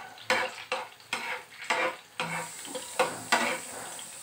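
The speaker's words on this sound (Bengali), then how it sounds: "কয়েক সেকেন্ডের জন্য নেড়েচেড়ে রসুন কুচিগুলো তেলে ভেজে নিব" Chopped garlic fries in hot oil in a frying pan as a spatula stirs it in a steady rhythm. Sharp scraping strokes come about every half second over a soft, continuous sizzle.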